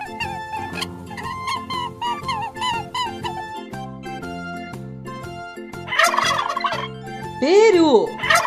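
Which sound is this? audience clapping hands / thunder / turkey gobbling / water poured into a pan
turkey gobbling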